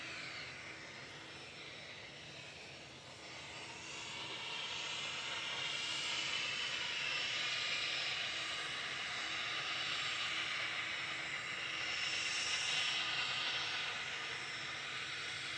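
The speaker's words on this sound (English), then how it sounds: "This is a little Cessna Citation Mustang, 15-year-old aircraft." A Cessna Citation Mustang light jet, about fifteen years old, at Manchester Airport gives a steady, fairly distant jet roar with airy hiss that swells slightly after the first few seconds and holds on, with no talking.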